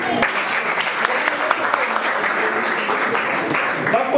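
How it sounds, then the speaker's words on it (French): A university student gathering breaks into applause, a sustained, moderately loud patter of many hands clapping together, with faint voices underneath. "On peut maintenant applaudir."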